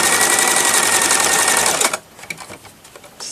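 A sewing machine runs in a steady fast whirr while stitching along the edge of a ribbon on dyed fabric, then stops abruptly, leaving light handling clicks and rustles.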